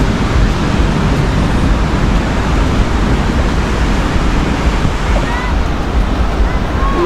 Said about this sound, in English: You can look at the big waves coming in.